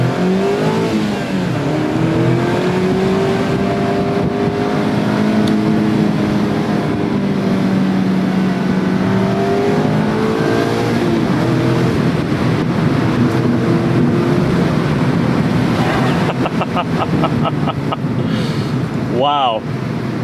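A Mazda Miata ND2 Club sports car drives with a loud, continuous engine drone that rises and falls in pitch as it accelerates, with road and wind noise underneath.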